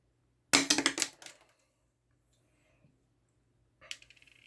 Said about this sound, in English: That cut through with a little force and no apparent damage to the wire cutters.